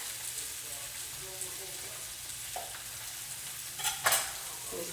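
Smoked sausage sizzling in a skillet, a steady low hiss with a few scraping stirs and a louder clatter near the end, close and fairly quiet, no talk.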